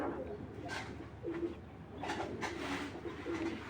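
Red checker pigeons coo in soft, repeated low calls, several phrases in close succession, nearby and fairly quiet, with faint background murmur.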